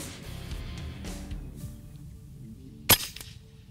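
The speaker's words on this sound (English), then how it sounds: "I'm gonna shoot these H&N Sport Field Target Trophies." A BroCock Commander air rifle fires a single sharp shot with H&N Sport Field Target Trophy pellets, one loud crack standing out over a quiet background.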